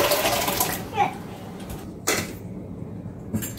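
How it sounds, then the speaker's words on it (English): Tomatoes tipped into a pot of chicken chili, a few wet plops and splashes landing close over a steady hiss of kitchen background. "So I'm going to go ahead and add all of these tomatoes right now."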